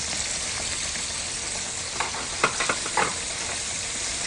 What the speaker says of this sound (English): This is the second batch of fish that I put in frying